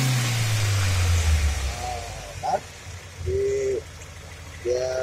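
A Toyota Starlet's engine is revved during tuning for an emission test: a loud rev falls away at the start, followed by quieter idling with short tonal bursts and a voice talking.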